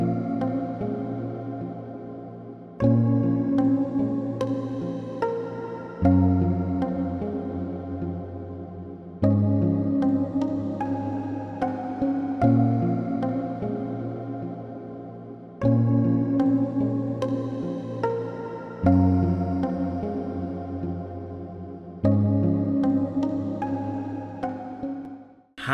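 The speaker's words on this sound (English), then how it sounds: "Next up is a lap steel, and warning, this might be your new favourite sound." Sampled lap steel guitar from a free software instrument plugin, playing sweet sustained chords that slide and swell, each phrase restarting every few seconds and decaying smoothly, clean and alone with no voices.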